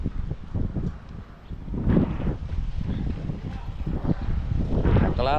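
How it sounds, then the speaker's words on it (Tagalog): Strong wind buffets the microphone aboard a small fishing boat, gusty roaring and rumbling that rises and falls while people talk over it. "lumakas ang hangin"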